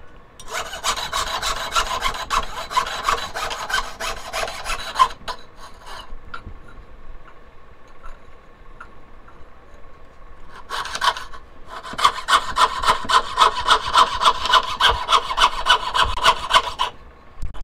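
A hand saw cuts through soft base metal while shaping a whale or mermaid tail pendant, giving fast, rhythmic rasping strokes in two close, steady bursts separated by a few quieter seconds.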